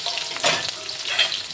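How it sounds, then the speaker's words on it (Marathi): Four or five green chillies hit hot ghee in a pan for pav bhaji, a close, loud continuous sizzle and crackle with brief spitting bursts and no talk. "2 चमचे तूप टाकलं. त्याच्यामध्ये 4-5 हिरव्या मिरच्या टाकल्या."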